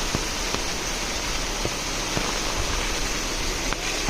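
Heavy monsoon downpour near a temple where floodwater runs high, a dense, steady roar of rain drumming on surfaces that does not let up, with occasional sharper drips standing out close by.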